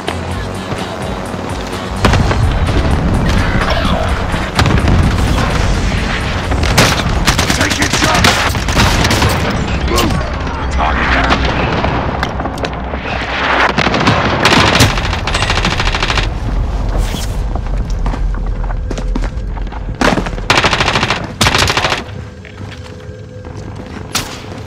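Video game machine gun fire, sustained rapid bursts of automatic shots with booms and impacts, loud and nearly continuous across the stretch, with brief gaps near the end.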